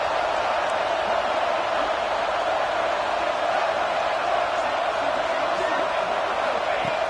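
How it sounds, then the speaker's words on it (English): Dense stadium crowd roar at an Ohio State vs USC college football game, a loud continuous wash of noise with no breaks. "Listen to the crowd energy here in the early going."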